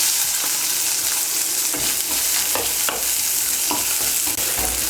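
Chopped onion fries in oil with black cumin, a loud, close, continuous sizzle with repeated stirring scrapes and clatters against the pan, with no voices.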